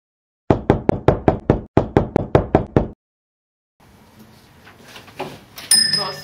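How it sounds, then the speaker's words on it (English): Two quick rounds of sharp, loud knocks on a door, about six each in a fast, even rhythm, followed by a pause, then a faint rising murmur and a chime-like tone. "Oh, such a rude knock."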